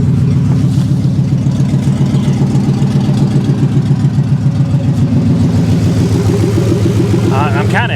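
A Ford F150 pickup truck engine idles loudly and close, a steady low rumbling throb throughout, with a voice speaking briefly over it near the end.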